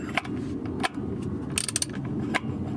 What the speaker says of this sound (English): the oil filter housing cap is so tight that the oil filter wrench just slips with no grip at all